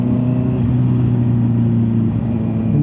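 A Honda CB650R motorcycle under throttle, its engine note droning steadily with strong low tones, loud and close, with no voices.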